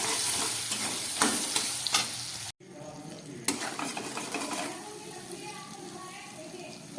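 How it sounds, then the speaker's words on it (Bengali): Fish frying in a pan with salt and turmeric, a steady loud sizzle with stirring scrapes, briefly cut off near the middle and then resuming at a slightly quieter level. "নুন হলুদ দিয়ে ভালো করে আমি এটাকে ভেজে নিচ্ছি।"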